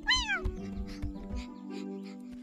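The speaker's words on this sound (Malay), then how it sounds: "Kucing! Miau!" A cartoon cat gives a single loud, rising-and-falling meow up close, followed by low background music with no other voices.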